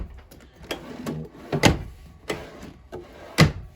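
A drawer in a 2013 Jayco 33RLDS RV slides open and shut, giving several close knocks and thumps with a sharper bang near the end, all without talk.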